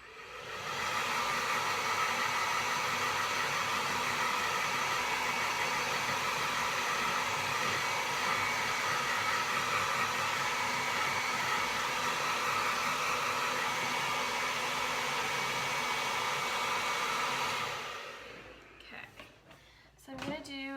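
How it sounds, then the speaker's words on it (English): A hair dryer drying paint on a small snowman painting blows with a loud, steady whooshing roar for most of the clip, then switches off, leaving brief faint rustling. "I'm gonna hit him with the hairdryer real quick"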